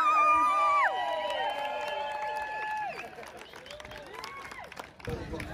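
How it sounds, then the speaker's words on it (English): At the Turf Games summer festival, a fitness competition, a crowd cheers, whoops and applauds after a top-three team placing, a busy wash of clapping and shouts at moderate distance with voices mixed throughout. "One more round of applause."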